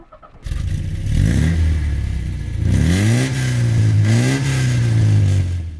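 Lancia Flavia 2000 coupe engine cranking and catching, then revving up and settling into a steady idle with a couple of rising blips, loud and close, no talking.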